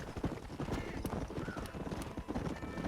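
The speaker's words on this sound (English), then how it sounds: "This horse." A horse in the Red Dead Redemption video game clip-clops along with steady hoofbeats and lets out a whinny, all under ambient game sound.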